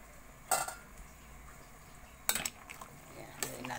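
In a kitchen, a spoon and pieces of fried galunggong fish are set into a pot, giving three scattered metallic clinks and soft thuds over a faint background hiss, with no talking.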